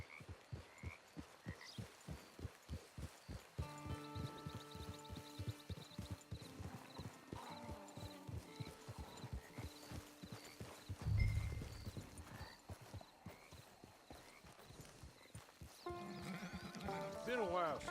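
Steady rhythmic horse hoofbeats clip-clop throughout at a walking pace in Red Dead Redemption 2, with game music and a brief voice layered over them, plus a soft thump midway.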